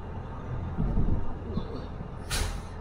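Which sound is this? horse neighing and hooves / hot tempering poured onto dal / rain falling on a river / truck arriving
truck arriving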